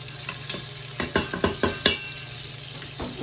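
Butter melting and sizzling in an Instant Pot gives a steady close hiss, broken by a few sharp scraping clicks of stirring.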